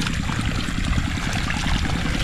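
Water flows from a neighbouring fish pond in a steady, close rushing gurgle without pause.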